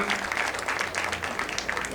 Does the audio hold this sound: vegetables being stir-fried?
no